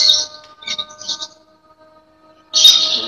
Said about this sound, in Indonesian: Oji berisik banget suara burung semua itu.